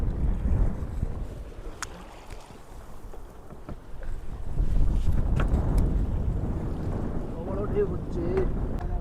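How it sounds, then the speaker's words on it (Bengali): Large waves on a river wash against a fishing boat near a net, a steady rough churn with gusting wind buffeting the microphone throughout. "আর ঢেউ আসছে, বেশ বড় বড় ঢেউ"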